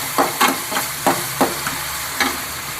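Egg kurma sautéing in a pan, with a spoon stirring and scraping in a quick uneven rhythm of about eight strokes over a soft steady sizzle.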